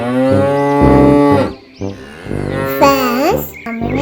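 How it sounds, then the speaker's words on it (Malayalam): Ammini, a cartoon cow on a happy farm, gives a few loud, close, drawn-out moos that rise and fall in pitch, with short breaks between them. "ഇതാണ് കൗ, എന്റെ പുതിയ ഫ്രണ്ട്"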